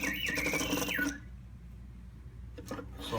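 An antique Black Forest GHS singing bird clock whistles a close, bright warbling song with sliding pitch for about a second, then stops, leaving only a faint mechanical hum and soft clicks.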